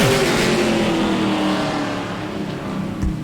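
Super late model race cars roar away at the green flag during qualifying at Auburndale, engines loud and close with a steady droning pitch that slowly fades as the field pulls off, then briefly swells again.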